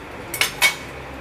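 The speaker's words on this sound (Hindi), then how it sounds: "ये मैंने जीरा ऐड किया आधे चम्मच के करीब" A spoon adds cumin seeds to melted butter and desi ghee in a pan, giving two quick, close metallic clinks against the cookware in an otherwise quiet kitchen.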